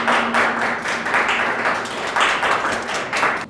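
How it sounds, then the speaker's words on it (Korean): Audience applause at an awards ceremony for an arts and culture startup idea competition, uneven clapping from a modest crowd with distinct claps audible, close and fairly loud throughout. "박수 부탁드립니다."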